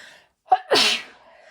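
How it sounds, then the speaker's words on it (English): A single close, sharp sneeze with a quick intake of breath just before it. "Sorry guys, I had to sneeze."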